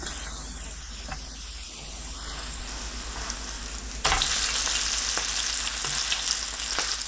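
Potato batter drops into preheated cooking oil in a pan over medium-low heat. A gentle hiss jumps into a loud, steady sizzle that continues without talk.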